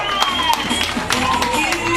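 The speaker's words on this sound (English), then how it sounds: "Give him a big round of applause," An audience claps at an outdoor peace concert in Jamaica, heard as scattered sharp claps under a public-address voice and crowd noise.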